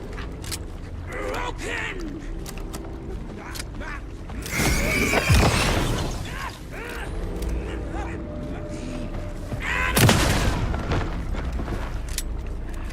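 Heavy booming gunshots in the horror game Alan Wake 2, two or three loud blasts standing out from a low rumbling ambience with creaks and mechanical noises between them.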